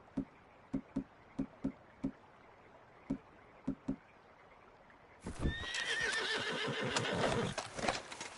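Horse hooves clop in an irregular series of sharp, distinct steps, then a loud, drawn-out whinny erupts in the Red Dead Redemption II video game, close and dominant over an ambient outdoor backdrop.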